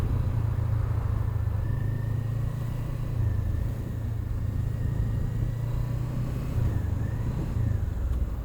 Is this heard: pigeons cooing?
no